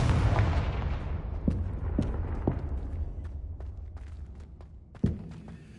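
Spell blasts in the Hogwarts Legacy video game: a heavy rumbling boom that decays slowly, followed by several sharp thuds and one loud impact near the end, with no voices.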